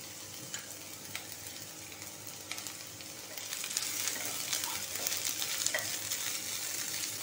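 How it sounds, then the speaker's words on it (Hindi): Three colours of bell pepper are stir-fried for veg hakka noodles, giving a steady sizzle with scraping stirs and small crackles. It grows louder and busier midway and stays close and continuous. "अब मैं ये जो मेरे पास 3 कलर के बेल पेपर्स हैं वो भी डाल देती हूँ"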